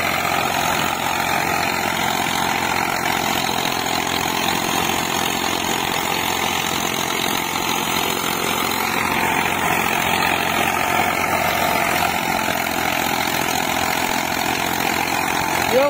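A 45 HP tractor engine, Farmtrac 6055 against Eicher 485, runs with a rotavator lowered in the field, a loud, steady, unbroken drone close by from start to finish.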